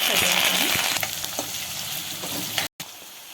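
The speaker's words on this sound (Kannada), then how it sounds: "ಈಗ ಎಣ್ಣೆ ಕಾಲತ್ತಿ ಇದಕ್ಕೆ ಹಸಿಮೆಣ್ಸಿನ್ಕಾಯಿ" Green chillies fry in hot oil for a ragi avalakki dish, giving a bright continuous sizzle with stirring scrapes and clinks, close up, cutting off briefly near the end.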